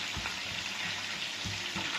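Onion and tomato sizzling in a pan, a steady close frying hiss with occasional stirring bumps.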